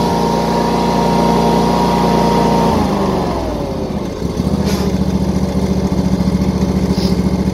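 Ferris Z2 SRS stand-on mower engine, EF5 model, running loud and steady, then dropping in pitch as it settles into a rough, even idle, close by with no talk.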